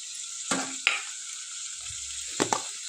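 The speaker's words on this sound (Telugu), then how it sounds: "కొంచెం తాలింపు అవుతుంటుందండి" A steady, quiet sizzle of tempering spices and curry leaves frying in hot oil, broken by a few sharp clinks of a utensil against the pan.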